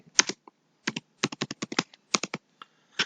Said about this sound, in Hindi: इस नई विंडो को खोलने के बाद हम इसमें गूगल कीप लिखेंगे।